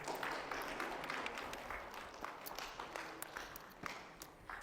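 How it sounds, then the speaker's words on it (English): Applause from a panel event audience as moderators and panelists return to their seats, a quiet, distant spatter of clapping with scattered sharp claps and faint room noise. "let's give them"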